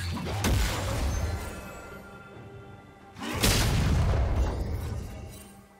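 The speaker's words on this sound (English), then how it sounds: "Red Team's turret has been destroyed." A turret being destroyed in League of Legends, two heavy crashing blasts about three seconds apart, each a sharp impact with a rumbling, shattering tail, loud and close with no talking.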